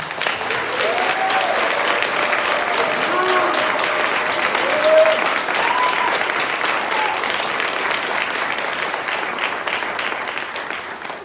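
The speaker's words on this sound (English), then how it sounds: "Please give them a round of applause." Sustained applause from a school awards ceremony audience, a steady dense clapping wash lasting the whole stretch, with faint voices and a brief louder swell midway.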